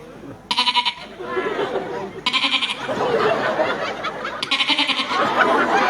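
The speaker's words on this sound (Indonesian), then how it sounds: "Kalau suaranya ke atas itu anak kambing" A goat bleats in three quavering bursts at close range, with a person talking between and over the cries.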